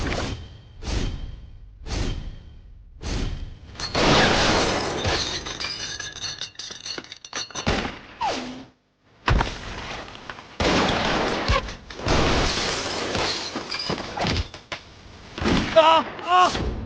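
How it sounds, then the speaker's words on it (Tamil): A gunfight in a Tamil TV drama scene: a run of sharp, separate gunshots, then longer dense bursts of firing and whooshing effects, with short gaps between volleys. "இங்க துப்பாக்கி சண்டை நடந்துச்சுக்கா"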